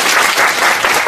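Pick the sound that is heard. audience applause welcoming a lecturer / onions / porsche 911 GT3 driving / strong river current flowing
audience applause welcoming a lecturer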